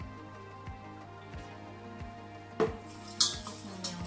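A spoon stirring milk with sugar and vanilla in a pot, soft rhythmic scrapes about every half second, close and quiet, ending with a few sharper clinks of metal against the pan.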